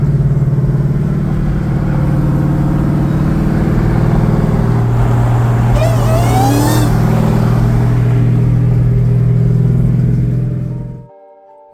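A Mustang fitted with new brakes cruises along a street with a steady, deep engine drone and a brief rise in revs midway. The sound is loud and close, with no talk, and it cuts off abruptly at the end.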